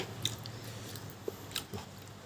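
Close, soft chewing and biting of a spicy Thai live shrimp salad, with a few crisp crunches and wet squishes at irregular moments over a quiet background.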